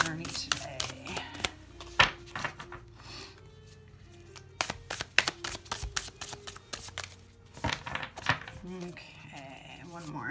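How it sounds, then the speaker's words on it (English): Oracle cards are shuffled by hand in repeated quick bursts of riffling and slapping, close and crisp, with short pauses between runs and a soft voice murmuring in the background. "Okay, one more shuffle."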